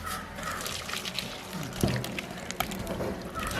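Cooked cassava and water tip out of a cooking pot into another vessel, a continuous splashing liquid pour with a couple of sharp knocks of pot against container, close by.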